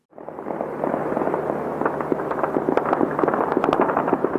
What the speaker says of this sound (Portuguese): Fogos de artifício e disparos marcaram a noite em Beirute